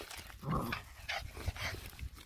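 A dog outdoors on a mountainside gives a few faint, soft barks and whimpering yips, spaced irregularly and heard from a little distance, with no voices.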